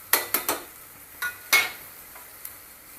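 Powdered spices stirred into hot oil in a pan while cooking Satara-style spicy mutton curry, giving a few short scraping clinks of a spoon against the pan over a faint sizzle.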